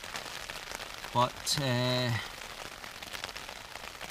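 Steady rain patters on a tent during wild camping in Scotland by the old Woodhead lead mine ruins, a constant soft hiss throughout, with a short burst of speech partway through.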